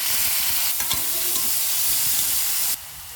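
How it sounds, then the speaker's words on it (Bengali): Vegetables being stir-fried in hot oil in a wok for chowmein give a loud, continuous sizzle with stirring scrapes, close up, cutting off abruptly near the end. "তেল গরম হয়ে গিয়েছে, এবার আমরা সবজিগুলো নেড়ে নেব।"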